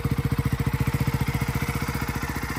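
A Ducati 698 Mono single-cylinder motorcycle engine idles and revs up close in a fast, steady throbbing pulse that grows slightly rougher, with no talk.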